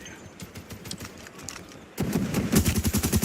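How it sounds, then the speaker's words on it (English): Rapid bursts of PKM machine gun fire in the video game Call of Duty Mobile, a fast rhythmic stream of shots that grows louder and closer halfway through, heard without talk. "PKM shots through the smoke"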